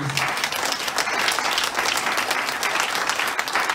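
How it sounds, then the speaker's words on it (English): Church congregation at a Sunday service claps together for Jesus, a thick, sustained roar of many hands, continuous and even throughout, loud and enveloping with no speech on top. "Give a hand clap to Jesus"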